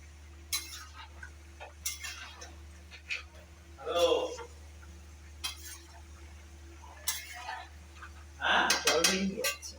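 A metal kadai (wok) is handled in a home kitchen during Chaitra Sankranti festival cooking: faint clinks and scrapes of metal come in short bursts, loudest near the middle and end, against a low steady hum.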